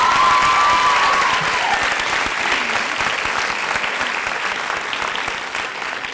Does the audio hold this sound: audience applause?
yes